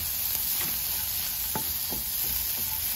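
An egg and cheese mixture is stirred in a hot pan, with a soft constant sizzle broken by several short scraping strokes of a spatula, near and fairly quiet.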